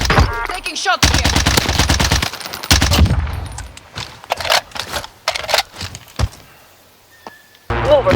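Automatic weapon fire in a first-person shooter game using the C58 rifle: loud, rapid bursts of shots in quick succession, then scattered single shots and thuds with gaps of near silence, a voice briefly audible.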